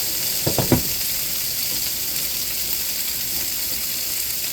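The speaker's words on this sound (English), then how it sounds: "we're gonna add that tri-tip into our pan" Tri-tip beef drops into a hot pan with a few thumps near the start, followed by a loud, steady sizzle that carries on close and unbroken, with no speech.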